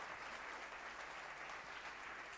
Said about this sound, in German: einen Applaus für unsere tollen Sponsoren